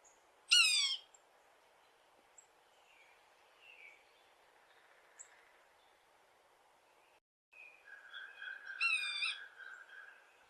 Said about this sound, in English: What you do hear a lot this time of year is the mew call.